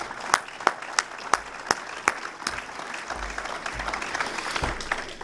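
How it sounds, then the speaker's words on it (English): Audience at a crime and public safety panel forum applauds, several sharp distinct claps standing out at first over a broader wash of clapping that continues steadily at moderate volume. "I think we need to give both of them a big round of applause."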